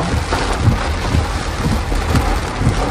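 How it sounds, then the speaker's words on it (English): Heavy rain pours steadily during a thunderstorm, a dense close hiss with soft low rumbles of thunder rolling underneath at intervals, and no one speaking. "Kayla, we can't make a run for it in this heavy rain."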